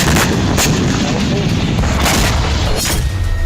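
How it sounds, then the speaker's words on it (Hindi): Mortar fire from Hamas fighters in a tunnel against the Israeli army: heavy, continuous low booms and rumbling blasts, with sharp bursts near 0.6, 2.1 and 2.9 seconds over dense battlefield noise. "हमास के लड़ाके सुरंग में मौजूद हैं, वहीं से इजरायली सेना पर मोर्टार से हमले कर रहे हैं।"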